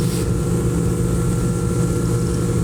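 A steady, loud engine drone with a constant low rumble from an outboard-powered Aluma Storm 477 motorboat on a Mark 100 engine at about 70 km/h, continuous throughout with no voices.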